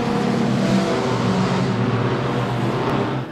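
Inline-six engine of a BMW M4 GT4 in 2017 configuration, driven in the Raceroom racing game, droning at a steady high pitch throughout with no break, loud and close.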